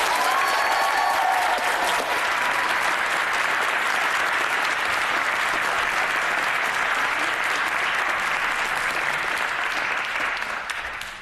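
Loud, sustained applause from a crowded chamber during a UK Youth Parliament debate in the House of Commons, steady dense clapping that carries on for several seconds before tapering slightly at the end.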